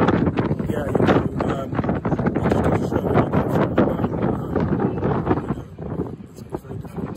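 Strong outdoor wind buffets the microphone in continuous rough gusts, nearly drowning out someone talking throughout.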